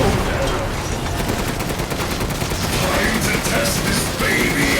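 Rapid gunfire in the game Resident Evil Village rattles continuously at close range, dense and loud throughout, with a voice faintly mixed in.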